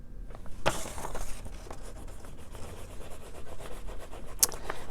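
An eraser rubbing pen marks off a sheet of paper: soft, close scratchy friction in short repeated strokes, quiet and without talk.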